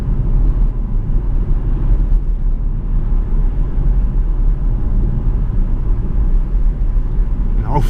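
Jaguar XF 5.0 V8 S on the road, heard from a microphone fixed to its bumper: a steady, loud low engine and road rumble with wind noise that barely changes throughout.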